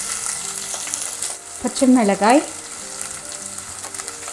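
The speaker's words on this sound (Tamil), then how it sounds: "கறிவேப்பிலை எல்லாத்தையும் சேர்த்து நல்லா வதக்கிக்கலாம்" Onions and green chilies sauté in hot oil, a continuous close sizzle and crackle, while a voice speaks briefly over the cooking.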